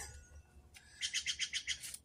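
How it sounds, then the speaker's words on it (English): A bird gives a quick series of about seven bright, rapid chirps, close and clear, following a brief softer note, with no talk. "stop interrupting me then, Bird"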